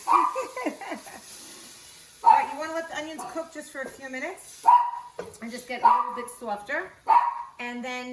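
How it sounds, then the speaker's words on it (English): A pet dog gives several short, loud barks that ring out in sharp bursts through the clip, over a person talking in a home kitchen while onions cook. "That's my dog."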